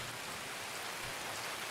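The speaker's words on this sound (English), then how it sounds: "Definitely enjoying the rain" Steady rain in a video game, a soft, even hiss of drops falling on surfaces, distant and continuous with no voices.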